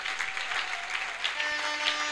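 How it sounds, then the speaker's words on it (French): A congregation at a prophetic revival gathering applauds the pastors, soft, steady clapping heard somewhat distant with sustained tones underneath. "Est-ce qu'on peut applaudir pour les pasteurs de gloire"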